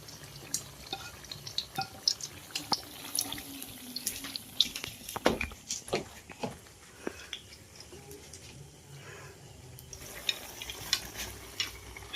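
Onion slices for jhuri piyaji sizzling and crackling in hot oil, a dense quiet fizz with scattered sharp pops and small clatters, close and continuous.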